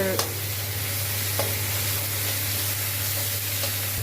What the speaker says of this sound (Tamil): வந்த பிறகு தக்காளியை போட்டுட்டு வதக்கணும்